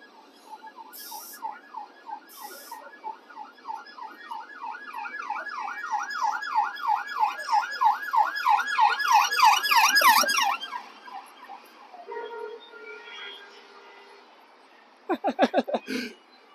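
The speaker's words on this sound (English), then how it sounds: "Oh, here's another siren coming." A wailing emergency vehicle siren rises and falls repeatedly, swelling louder as it approaches and then cutting off, with Edinburgh street noise and trams around it and a brief clatter at the end.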